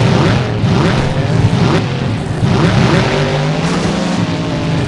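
Monster truck Son of a Devil on a time-attack run at a Minneapolis tournament, its engine roaring loud and continuous with rising and falling revs and no voices.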